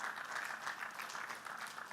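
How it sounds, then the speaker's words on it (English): Audience members clap during a speech, a soft, somewhat distant but continuous patter of many hands that stays even throughout the short stretch. "Good place to clap."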